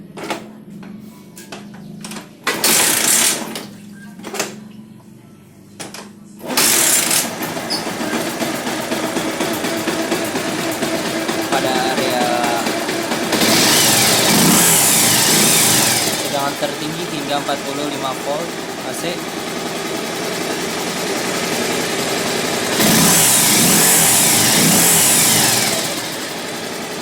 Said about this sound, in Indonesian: Dan saya akan menyalakan mesinnya.